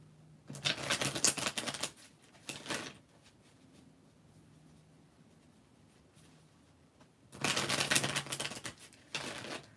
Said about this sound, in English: I'm seeing the same cards, so I'm just gonna have to shuffle well.